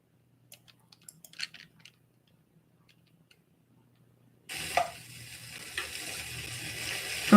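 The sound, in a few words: spatula noise while cooking liver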